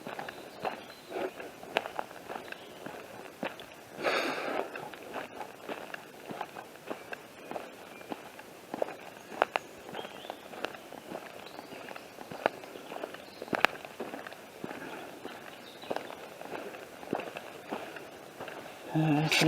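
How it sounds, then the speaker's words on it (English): Heavy footsteps stomp through woodland at Cannock Chase near Kingsley Wood Road, a steady series of close crunching, snapping steps on the forest floor, with a few sharper cracks among them. "Big bloody stomping noises I'm making."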